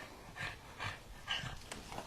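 A puppy panting in quick breathy puffs close by, a steady rhythmic huffing repeated several times with soft snuffly undertones.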